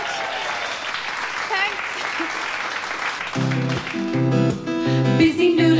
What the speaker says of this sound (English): clapping in your own time for the Nualas